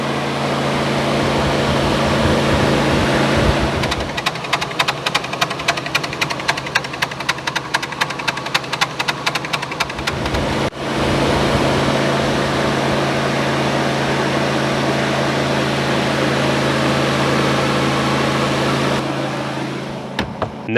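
A new radiator fan motor on a C4 Corvette runs as a loud, steady whir over engine noise, with a stretch of rapid ticking pulses partway through and no voices.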